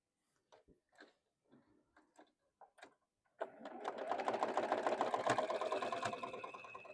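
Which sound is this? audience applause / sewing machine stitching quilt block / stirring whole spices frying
sewing machine stitching quilt block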